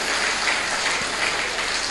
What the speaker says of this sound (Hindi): हाँ ताली बजा लो, ताली बजा लो